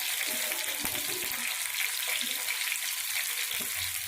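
Green peas frying in hot oil in a wok for vegetarian broken-wheat khichuri, a continuous close bright sizzle with faint stirring scrapes and soft clatter, no voices.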